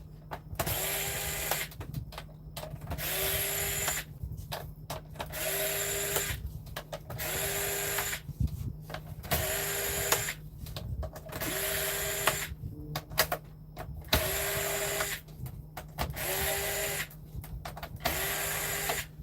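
Small screws being driven out of a PS5 console's plate during a no-power repair, a repeated motorized whirr in regular bursts roughly every second or two, steady and close, with a constant low hum beneath.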